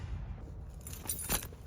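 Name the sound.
truck keys jangling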